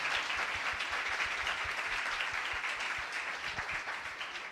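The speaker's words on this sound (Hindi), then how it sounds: "खुदा के जलाल के लिए जोरदार तालियां बजाएं।" A church congregation claps loudly and steadily together, a dense wash of applause that holds for several seconds, fading only slightly toward the end, with no voices standing out.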